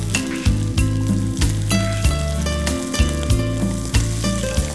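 Cumin seeds and mustard sputtering and sizzling in hot oil for a jowar snack, a loud continuous fry with crackling pops and stirring, no voices.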